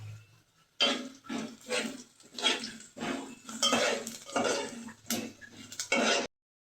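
Turmeric being stirred into onions and curry leaves frying in a pan, with a series of close, clattering scrapes and knocks of utensil against metal at an uneven rhythm, and a soft sizzle underneath.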